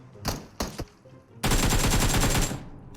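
Two short bursts of gunfire in PUBG Mobile, then a long loud rapid stream of automatic fire lasting about a second, crisp and close.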